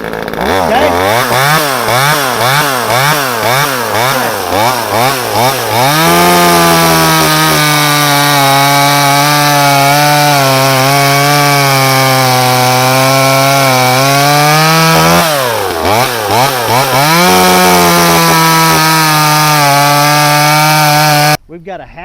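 A Saker mini chainsaw cuts through wood at close range, its loud buzzing motor rising and falling as it bites in, then holding a steady whine through a long cut before stopping abruptly.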